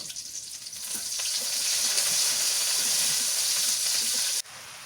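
Onions frying in a pan, a steady close hiss and crackle that swells and holds, then cuts off abruptly near the end, leaving a quieter background.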